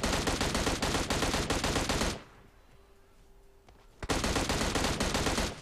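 Automatic gunfire in PUBG Mobile on the Erangel map: two long, loud, rapid bursts separated by a short quiet pause with distant ambience.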